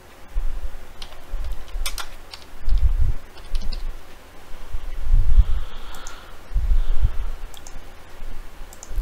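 Computer keyboard clicking under a low rumbling background as code is typed in a Verilog editor, with irregular soft taps in short bursts.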